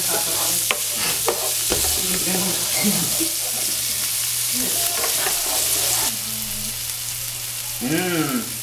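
Ingredients sautéing in a hot pan until golden brown, a steady loud sizzle with scraping stir strokes throughout, a brief voice heard near the end.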